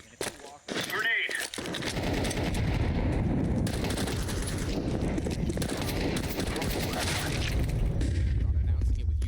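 A grenade explodes amid heavy gunfire in Counter-Strike 2, with a brief whistling sweep before a loud, dense barrage of shots and booms that continues steadily to the end, a voice talking over it.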